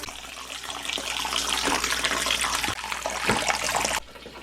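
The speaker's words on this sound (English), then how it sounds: "So they're gonna get a nice soak of cold water." Cold water runs steadily from a tap to soak freshly harvested artichokes, a loud, close, splashing gush that continues for about four seconds before cutting off abruptly.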